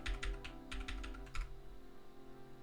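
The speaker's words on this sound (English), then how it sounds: "enter the password again." A password being typed on a computer keyboard, a quick run of soft, close key taps followed by a short quiet stretch, with no talking.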